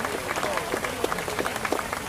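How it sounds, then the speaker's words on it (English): An outdoor crowd at the Greening of the Fountain 2022 event gives a round of applause that sounds faint and distant, a soft patter of scattered claps with crowd murmur beneath. "Let's give them a big round of applause"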